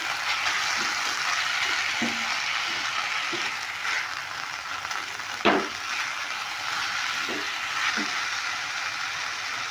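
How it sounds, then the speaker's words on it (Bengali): Ginger-chili paste and cumin sizzle steadily in a hot frying pan, with a spatula stirring and scraping at irregular intervals and one sharper scrape in the middle, close and clear. "এবার দিয়ে দেবো আদা লঙ্কা বাটাটা এইগুলো দিয়েও আমি ভালো করে নেড়ে নিচ্ছি"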